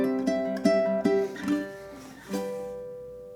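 Ukulele strumming the 12th bar of Queen's Bohemian Rhapsody, a few rhythmic strummed chords with ringing harmonic tones that sustain, close and clear, with no voices.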